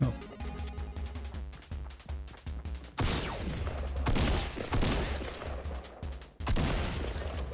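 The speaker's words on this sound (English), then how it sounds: "Oh, the minigun." Minigun fire in Fortnite rips out in long, dense sustained bursts with brief gaps, loud and close, over a steady game soundtrack.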